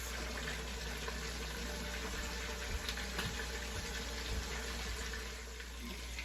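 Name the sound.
boneless chuck roast browning in pressure cooker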